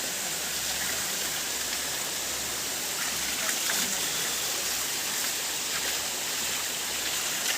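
A natural waterfall at Kapilash temple roars as a constant, broad rush of falling water, with no pauses.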